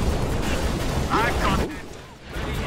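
Gunfire from a Halo Reach multiplayer match, a dense burst of shots aimed at a window, rumbling continuously under a speaking voice before thinning out briefly near the end.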